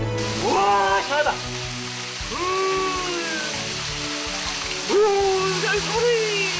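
Water from a waterfall about 33 m high on Ganwolsan in Ulsan rushes in a steady broadband roar. Voices talk over it and background music plays.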